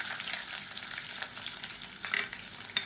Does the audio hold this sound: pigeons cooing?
no